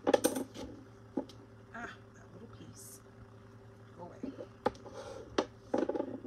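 Plain gray paper card base being folded in half by hand: soft papery rustles and crinkles punctuated by a few sharp creasing clicks, close and fairly quiet.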